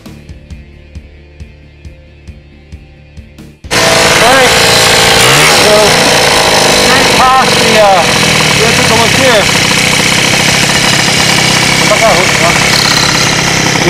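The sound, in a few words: TGB 303 Laser 50cc scooter engine running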